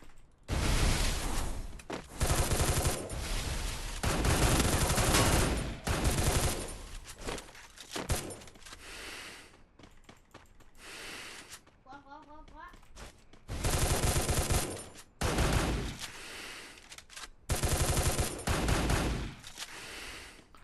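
Bizon submachine gun firing in the Free Fire video game, long loud bursts of rapid automatic fire broken by short pauses, with small game effect chirps between bursts.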